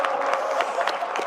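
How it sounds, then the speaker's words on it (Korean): An audience at a public event with the Korean president applauds steadily in a dense, even wash of clapping, heard briefly and at moderate level. "이렇게 만들어주신 대통령님께 박수 한번 우리 부탁드립니다."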